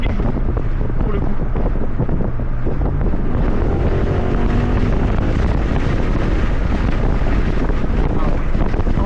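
Jeep SRT8 with a V8 engine accelerating hard, a loud, continuous roar with wind buffeting the microphone, filling the whole stretch without a break.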